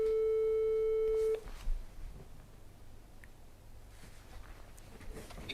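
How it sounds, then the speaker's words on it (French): A telephone ringback tone sounds as a call is placed, holding one steady electronic tone for just over a second before it cuts off, leaving quiet room noise with faint taps. "il faut absolument que j'appelle les gars"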